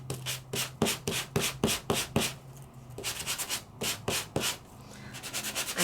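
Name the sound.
sanding embossed printed paper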